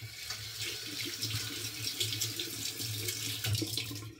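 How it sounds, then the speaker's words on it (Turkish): Hands washed under a running tap, an even, close stream of water splashing into a sink with light rubbing variations and no speech. "Ellerimizi yıkadık"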